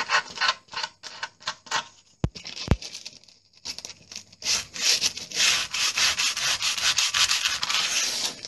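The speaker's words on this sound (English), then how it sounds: "There was some worn sandpaper. Just give it a light rub over." Worn sandpaper rubbed lightly over a window cill, producing bursts of dry scratchy strokes, a couple of sharp clicks, then a steadier run of close, brisk rubbing.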